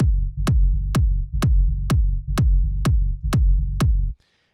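A tech house kick drum thumps in a steady four-on-the-floor pulse while a sidechain-compressed bass note ducks and swells between hits in Ableton, about nine beats before it stops abruptly.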